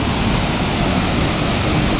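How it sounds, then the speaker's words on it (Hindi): A large hill waterfall near the Bangladesh border gives off a steady, dense roar of rushing water that holds unbroken from start to finish, with no voices. "इधर का सबसे बड़ा, इधर का मतलब इस साइड का सबसे बड़ा फॉल्स, वो हिल फॉल्स।"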